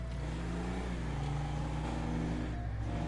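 A big truck drives in GTA 5, its engine a steady low rumble with a gently rising tone, loud and close, with no talk over it.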